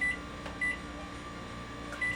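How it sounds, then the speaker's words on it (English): A microwave oven hums steadily and fairly quietly, while three short electronic beeps sound at even intervals over the running drone. "And you microwave for 5 minutes on high."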